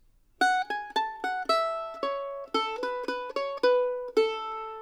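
A mandolin plays a short melodic phrase from the tune "Pretty Red Lips," about a dozen clear plucked notes, close and bright, each ringing briefly before the next, ending on a sustained note.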